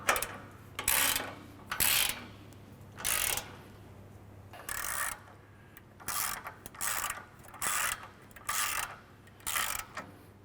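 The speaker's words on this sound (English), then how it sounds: "So we'll get these 17mm OEM bolts tightened back down." A ratchet tightens 17mm OEM bolts on an Ironman 4x4 Raid front bumper on a 2016+ Toyota Tacoma, giving quick bursts of close, loud ratcheting clicks with short pauses between strokes, and no talking.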